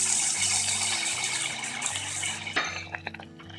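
Two cups of water pour into a pot of mixed vegetables, a steady gushing splash over a low hum, ending with a few clinks of cookware, close and fairly quiet.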